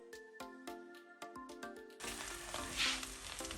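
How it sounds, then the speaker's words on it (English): Frozen vegetables hit a hot pan of Malaysian fried rice, setting off a sudden loud, continuous sizzle after a series of sharp clinks and taps, the hiss swelling briefly before holding steady. "So I just got some frozen vegetable ready. I'm going to add them in my pan straight away."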